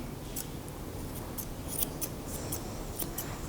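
Scissors snip steadily through dog fur in quick, crisp cuts, close and fairly quiet over a soft background hiss, with no talking.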